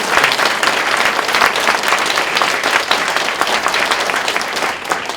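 A church congregation at a revival meeting claps loudly and continuously, a thick, sustained wash of applause with no speech over it.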